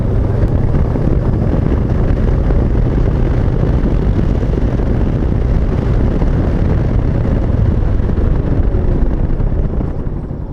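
Riding the VOGE 500DSX motorcycle on country roads in Wales: a steady, loud roar of engine and wind rushing past the microphone, unbroken for the whole stretch and easing slightly at the very end.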